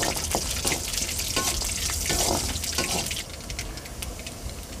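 Mustard seeds dropped into hot oil already holding onions for a Singi shrimp thokku, crackling and sizzling steadily at close range with scattered sharp pops, the frying easing off in the last second or so.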